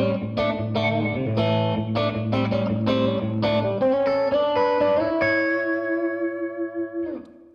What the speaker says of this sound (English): The Fender sound is all clean, lots of bass, lots of treble,